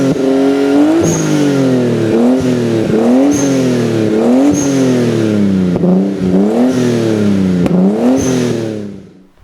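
A loud Nissan Skyline R34 RB-series straight-six engine revs hard again and again, each roar climbing in pitch then dropping in a steady rhythm, close by with no talk.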